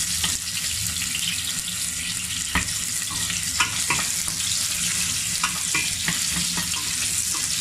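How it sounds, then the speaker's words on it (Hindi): Nepali momo filling ingredients fry lightly in a hot pan, giving a steady close sizzle with scattered clicks and scrapes from stirring, and no voices. "सिर्फ हल्का सा भूनना है।"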